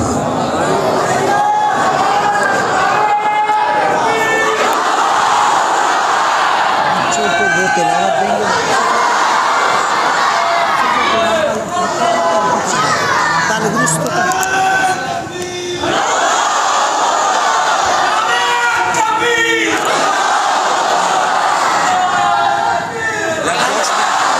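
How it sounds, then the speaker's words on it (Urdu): A large crowd at an annual religious gathering chants slogans in loud unison, swelling in rhythmic waves of shouting with cheering and scattered voices throughout. "اب ہم جانے لگے تو یہ نعرے لگا رہے ہیں"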